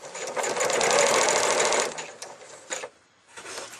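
An Elna 6200 computerized quilting sewing machine runs a straight stitch with a rapid, steady mechanical whirr at close range, then slows and stops, followed by a short burst of stitching.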